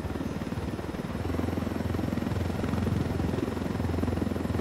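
A Unidad helicopter in the game Ghost Recon Wildlands drones steadily with loud, close, rapid rotor chop and a constant engine hum, holding level throughout.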